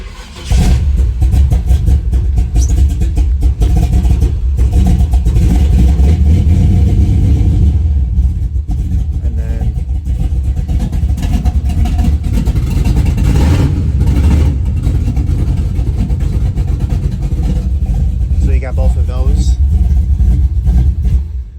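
A 1957 Chevrolet pickup with a 502 V8 runs with a loud, continuous low rumble and slight swells in engine speed. Someone appears to talk over the engine.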